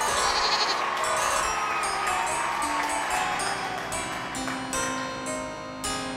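Several goats bleat in overlapping, wavering cries at a goat gathering, loud and close over a dense backdrop of animal calls with faint crowd noise.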